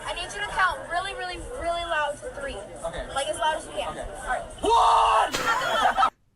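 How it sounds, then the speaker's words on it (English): A man yells at the top of his lungs in one sustained, very loud shout near the end, preceded by a mix of chatter and raised voices from a small group. "he really fucking yelled as loud as he could"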